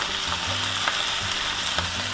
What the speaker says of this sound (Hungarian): annyira kell sütni, hogy megkocsonyásodjon egy kicsit a tojás